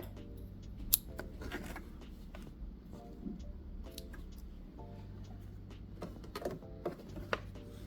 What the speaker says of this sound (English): And then I have to cut the bottom thread.